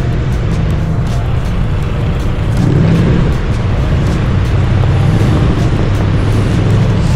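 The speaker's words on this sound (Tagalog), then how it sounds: "Mapapansin nyo mga nagpapainit na sila ng sasakyan." Several cars idling to warm up their engines in a wintry hotel parking lot in Lloydminster, Saskatchewan, a loud continuous low rumble with wind buffeting close to the microphone.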